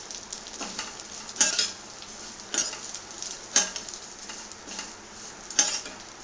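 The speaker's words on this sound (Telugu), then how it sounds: "నేతిలో ఫ్రై చేసుకోవాలన్నమాట" Vermicelli fries in ghee in a pan, a soft steady sizzle broken by several periodic scraping stirs with a utensil, close and moderately loud.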